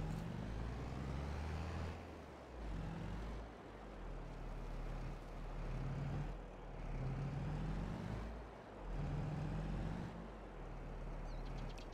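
A farm vehicle drives across a field in Farming Simulator 22, its engine a steady, loud low drone that swells and dips slightly in a continuous rhythm, with no talking.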